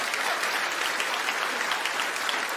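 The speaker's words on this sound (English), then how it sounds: "Are you applauding him?" A studio audience at a comedy motoring show breaks into steady, loud applause, dense clapping filling the whole stretch with no voices over it.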